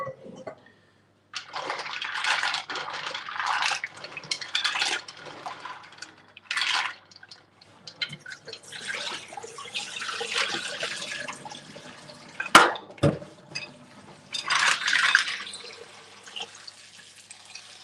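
Tap water runs in intermittent bursts as shellfish are rinsed clean of grit in a home kitchen, with a frying pan heating oil nearby; several gushes of splashing water separated by brief pauses, close to the listener.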